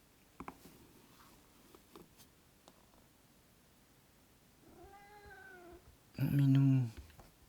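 A cat named Pikachu gives two meows, first a softer drawn-out one, then a loud, close, wavering cry near the end, with faint taps and rustles before them.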